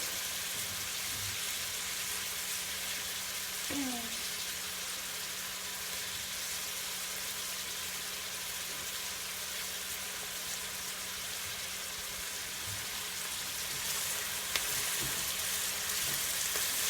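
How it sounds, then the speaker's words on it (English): Onions, carrots and celery sizzle steadily in a pot over medium-high heat, a dense, even hiss throughout with a few faint clinks of stirring, close and without talk. "I'm just going to cook this over sort of medium-high heat until the onions become slightly translucent and the carrots and the celery are softened"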